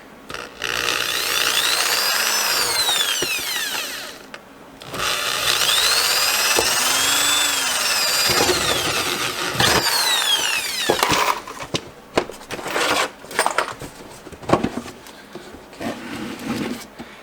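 A power drill whirs in two long sustained runs boring a through hole in a bait cooler, then gives way to scraping, knocking and short rattling bursts close by.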